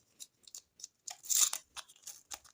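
A snack packet is torn and crinkled open by hand, a run of sharp crackling rips and rustles in quick bursts, loudest in the middle, close and alone with no talk.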